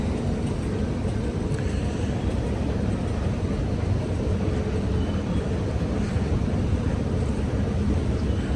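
Steady broadband rumble and rolling noise of a driverless Alstom Metropolis train on Sydney Metro's M1 line between Sydenham and Chatswood, heard from inside at the front, continuous and even with no talking.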